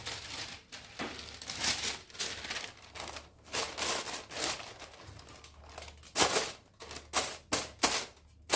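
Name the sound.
piercing holes in aluminium foil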